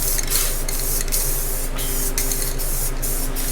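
Spray paint goes onto a car bumper in light coats, a close, continuous hiss broken by brief pauses as the nozzle is pressed and released, with a low steady hum underneath.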